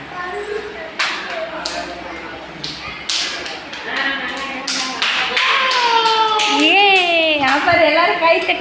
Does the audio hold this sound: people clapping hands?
yes